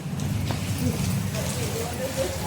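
Heavy tropical rain in Malaysia pours as a dense, steady hiss close by, with a voice speaking over it.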